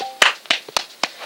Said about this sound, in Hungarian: Tapsot neki.